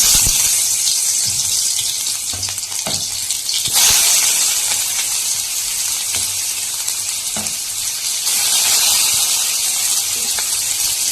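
Chopped onion hitting hot oil in a home kitchen pan, a loud continuous sizzle and hiss that persists throughout, with a few sharper clatters of utensils, no talking.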